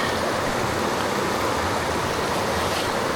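Steady rushing water flows through a gold panning sluice outdoors, a dense continuous wash that stays even and fairly loud throughout with no talking.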